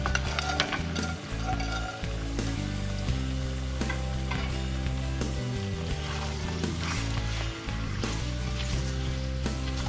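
Eggplant pieces, home-grown and previously frozen, dropped into potatoes sizzling in a hot pan: steady loud frying hiss with low bubbling and occasional stirring scrapes throughout, no talking.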